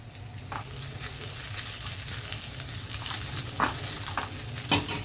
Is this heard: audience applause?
no